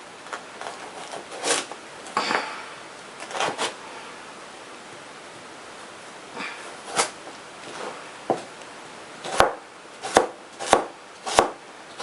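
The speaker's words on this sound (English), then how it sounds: "So yeah, like I've cut those in quarters, lengthwise." Knife chopping vegetables into lengthwise quarters on a board, scattered sharp chops in short bursts, then several crisp, louder cuts near the end, no voices.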